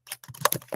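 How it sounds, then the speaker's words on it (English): A brief burst of typing on a computer keyboard, several close, quick key clicks in an uneven rhythm with no voices. "I'm also typing in the chat"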